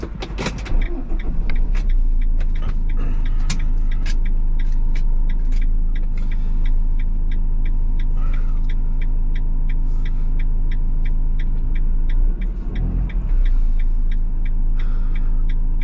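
A car pulling away and driving along a road on the way to an MOT test in Lutterworth, with a steady low engine rumble close by throughout and a brief bump of louder noise near the end.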